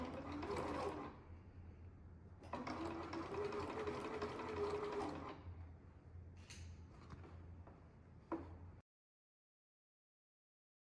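A sewing machine back stitching fabric for a sou'wester sun hat runs in two bursts of rapid whirring, then slows to softer mechanical clicks and a final thunk before falling silent.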